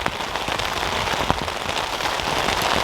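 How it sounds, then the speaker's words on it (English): Steady, dense rain patters across a Vango Nevis 200 tent, a continuous close hiss of drops with a few sharper taps and possible hailstones striking the fabric. "And now it's raining."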